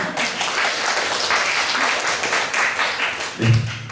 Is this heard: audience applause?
yes